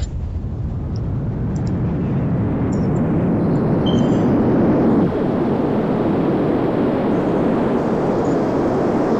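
Roaring jet engine of a Boeing 2707-300 supersonic airliner accelerating down the runway in a flight simulator game, a loud, steady broadband rumble that holds throughout with no voices.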